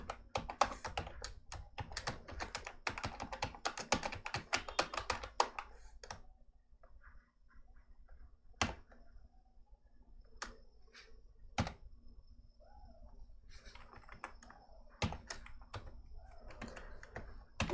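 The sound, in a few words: typing code on a computer keyboard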